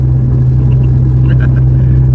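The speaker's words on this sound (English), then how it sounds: "Driving in the rain in Houston with all this damn traffic." A car rolls through rainy Houston traffic, its cabin filled with a loud, steady low engine and road drone, while faint higher tones briefly surface partway through.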